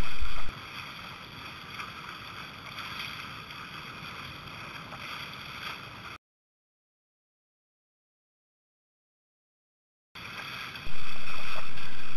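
Steady rush of wind and water around a sailboat on a fast beam reach near Shelter Island, with a constant hissing wash broken by a silent gap and then a louder burst of wind noise.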